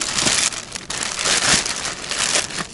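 A small plastic bag crinkles and rustles continuously at close range during a spring ice-fishing trip, with irregular crackling bursts and no talk over it.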